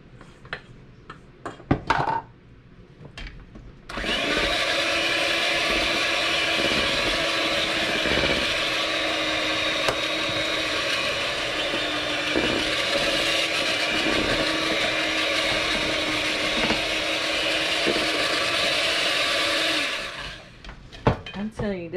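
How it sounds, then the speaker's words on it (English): An electric mixer whirs steadily through dry carrot cake batter, a loud, even motor drone lasting about sixteen seconds before cutting off, with brief talk and clatter before and after. "So, I'm gonna mix more of my"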